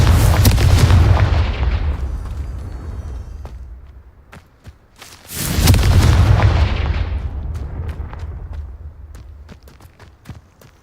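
Two loud, booming Confringo spell explosions in Hogwarts Legacy, each a heavy blast with a long rumbling decay, spaced about five seconds apart, with scattered light clicks and footsteps between them.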